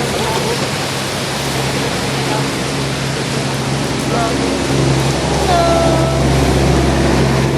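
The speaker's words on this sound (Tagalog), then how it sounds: "Nanghunong may kay kusog kayong ulan" Steady, dense heavy rain hiss on the Apopong highway fills the whole stretch, with a low hum underneath and a few faint tonal squeaks near the end.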